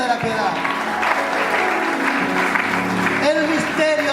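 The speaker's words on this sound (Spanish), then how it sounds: "Le puede dar un aplauso a Él." A church congregation applauds for several seconds as a steady, dense wash of clapping, with organ or music tones sustained underneath and a voice briefly audible near the end.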